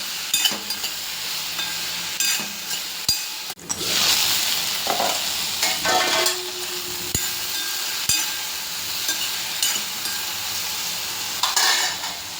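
Okra sautés in oil, producing a steady close sizzle broken by repeated scraping stirs and a few metallic spatula taps against the pan, with a louder burst of frying partway through.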